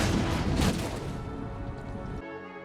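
Howitzer artillery fires in the Total War: Empire strategy game, a heavy booming blast that rolls and fades over a couple of seconds before cutting off.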